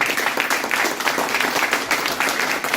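Audience applause at a seminar on gender and parity law, dense and sustained clapping from a crowd throughout, fairly loud and even.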